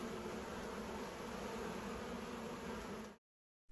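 Honeybees swarm and buzz around a busy hive entrance in summer, a dense, steady drone that holds without a break for about three seconds before cutting off abruptly.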